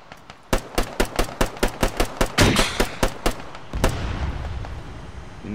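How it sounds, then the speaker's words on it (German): Heavy gunfire in a military video game: a rapid, evenly spaced string of about a dozen loud, close shots, followed by a heavier blast and a trailing rumble. "Achtung, wir stehen unter schwerem Feuer"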